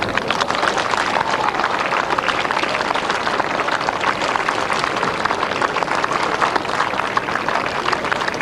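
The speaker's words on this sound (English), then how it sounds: "your applause please" A crowd applauds a trophy presentation at Kempton races in 1990, dense, steady clapping that fills the whole stretch without letting up.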